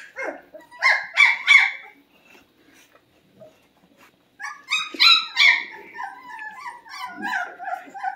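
Puppies about three and a half weeks old whimper and yip in short high-pitched bursts as they come out of a crate, a cluster early on, then a longer run of yelps after a quiet gap.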